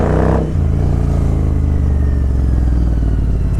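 A motorcycle rumbles steadily through traffic on a monsoon-soaked night ride, its close, loud engine drone holding a low even pitch after a brief burst at the start.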